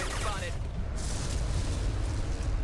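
Rapid gunfire and explosive booms in the video game Mass Effect 2, dense and continuous, loud and close, filling the whole stretch.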